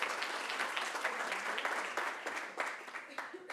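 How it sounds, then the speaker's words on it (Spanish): Applause from an audience at a financial newspaper's economic seminar, a steady wash of many hands clapping at moderate level for a few seconds with no talking over it. "Un aplauso."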